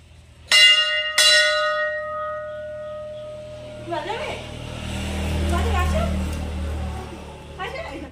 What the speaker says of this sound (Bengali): এর ঘন্টাটা বাজাও